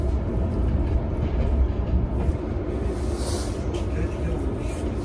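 Steady low rumble of an overnight sleeper train underway on a 14-hour journey across the Balkans, a continuous dense roar with faint rhythmic rattling and no clear voices.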